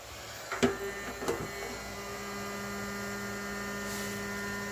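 A heat gun dries out the fuel tank of a Honda NTV650 cafe racer project. Two sharp clicks come first, then a steady whirring hum that runs on evenly and close by.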